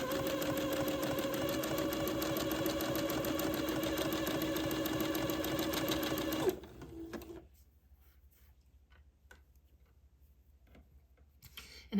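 A sewing machine zigzag stitching lace onto a dress runs in a fast, steady mechanical chatter for about six seconds and then stops, leaving near silence with faint handling clicks.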